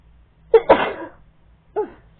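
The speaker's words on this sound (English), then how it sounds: "Hold on, I think I'm going to sneeze." A single sneeze, likely triggered by tree pollen drifting through a window, bursts out loud and close, with a sharp breathy intake and explosive release followed by a brief vocal sound a moment later.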